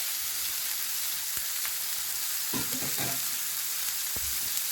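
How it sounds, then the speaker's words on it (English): Meat sears in a hot pan with a strong, even sizzle and crackle throughout, close by, with a few soft knocks and spatters from moving it, and no one talking. "Into the pan it goes. Sear in that bad boy."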